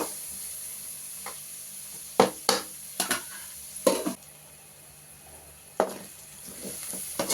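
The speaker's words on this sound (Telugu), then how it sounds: "బాగా వేగిందండి రెండు నిమిషాలు కలర్ మారింది ఉల్లిగడ్డలు అల్లం వెల్లుల్లి పేస్ట్ అండి" Onions with ginger garlic paste fry in a pan for an Andhra-style chicken dish, a soft steady sizzle broken by several sharp spatula scrapes and stirring knocks at irregular intervals.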